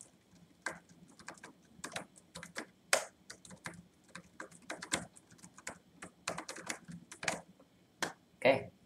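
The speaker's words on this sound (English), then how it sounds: "keyboard clicking" Typing on a computer keyboard captured close by a FIFINE K678 USB microphone, with irregular bursts of crisp key clicks and occasional heavier keystrokes tapping steadily over nearly nine seconds against a quiet background.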